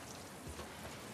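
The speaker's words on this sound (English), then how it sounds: "Let's get out of the rain." Steady rain falling in the video game The Last Of Us Part II, a soft continuous hiss of drops spread across the whole range, even and fairly quiet with no voices over it.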